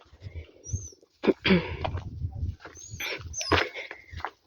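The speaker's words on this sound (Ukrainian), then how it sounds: "Песик, я тебе покормила. Він, як я приїду, пищить" A dog whines and yelps in high, thin squeals, repeated in short bursts close by, mixed with snuffling and faint movement.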